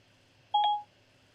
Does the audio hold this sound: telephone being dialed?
yes